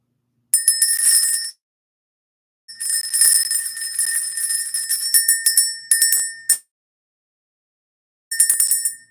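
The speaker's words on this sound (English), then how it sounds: "Let's ring the bell." A small bell rung in a spiritual card-reading session, sounding in three clear bursts of bright, sustained ringing separated by silence, with a long middle stretch of repeated rapid strikes.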